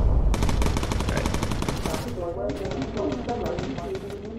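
A bomber gunner fires a machine gun in the game Bomber Crew, two rapid, loud bursts of rattling shots close by with a brief gap between them.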